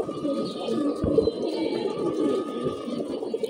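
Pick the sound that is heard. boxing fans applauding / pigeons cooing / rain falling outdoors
pigeons cooing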